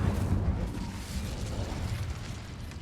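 An Incendio fire spell cast in Hogwarts Legacy gives off a soft, rushing burst of flame that rumbles on as a low, steady roar at a fairly faint level.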